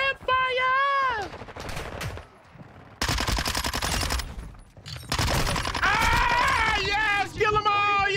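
Gunfire in the video game Call of Duty Modern Warfare 2: rapid automatic bursts and repeated shots in clusters, loud and close, mixed with excited shouting from players and in-game voices.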